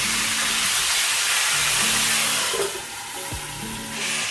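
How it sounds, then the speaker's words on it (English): Catfish frying in hot oil in a pot for a Gambian smoked catfish stew: loud, continuous close sizzling and crackling that dips slightly midway and swells again, with faint clinks and no talk. "Cover the pot when frying the catfish because it can pop up to your face."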